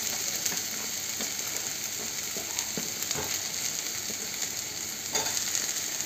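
Ridge gourd pieces fry in a pan with a continuous, quiet crackling sizzle, broken by occasional small clicks and stirring knocks.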